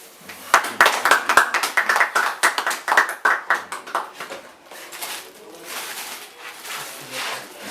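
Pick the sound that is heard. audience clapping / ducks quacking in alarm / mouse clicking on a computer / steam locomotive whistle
audience clapping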